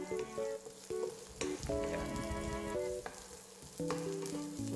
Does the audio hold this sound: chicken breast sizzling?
yes